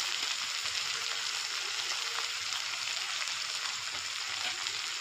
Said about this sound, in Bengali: আমি এবারে পেঁয়াজ কুচুনিটা দিয়ে দিচ্ছি